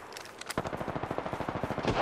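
Rapid automatic gunfire in Apex Legends bursts out after a brief pause, a fast, evenly spaced string of loud punchy shots running to the end of the short clip.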